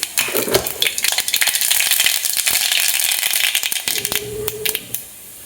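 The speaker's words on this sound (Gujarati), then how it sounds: "રાઈ સરખી રીતે ફૂટી ગઈ છે" Mustard seeds crackle and pop in hot oil for an aloo paratha tempering, a dense run of sharp snaps and spits throughout that thins out toward the end.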